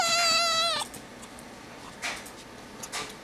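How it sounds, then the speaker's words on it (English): A pet cat lets out one loud, drawn-out meow up close, followed by quiet room sounds and a couple of faint rustles. "what are you meowing about?"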